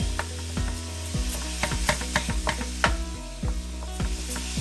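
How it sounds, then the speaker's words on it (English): Ground beef (80/20) browning over medium heat in a pan, with a steady sizzle under repeated scraping and tapping as a utensil breaks up the meat, close and continuous. "And while you brown it, you do want to just break it up really good."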